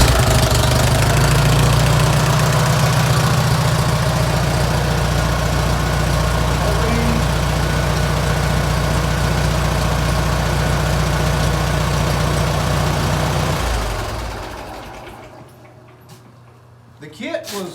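Farmall 140 tractor engine running at a loud, steady low idle for about fourteen seconds, then shutting down and fading out, with a few faint knocks afterward.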